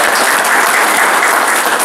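Dense, steady applause from an audience at a gathering of friends, a continuous even wash of clapping with no voices over it.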